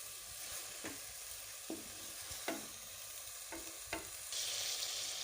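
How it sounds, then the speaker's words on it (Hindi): Peas and chicken fry together in a pan, giving a steady, moderately loud sizzle broken by a few stirring scrapes and knocks, with no talking. "इस वजह से मैं इसे 2 मिनट के लिए इकट्ठा फ्राई करी हूँ चिकन के साथ।"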